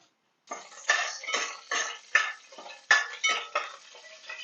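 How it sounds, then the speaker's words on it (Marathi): Curry leaves crackle and sputter in hot oil for a tempering, in a series of about eight sharp, close spattering bursts less than half a second apart, after a moment of silence. "कडीपत्ता तडतडतोय"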